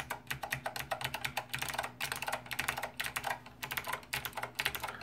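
Fast, continuous typing on a Monterey K2AX keyboard fitted with SKCM Blue Alps switches, giving a dense stream of crisp, clicky keystrokes heard up close and alone.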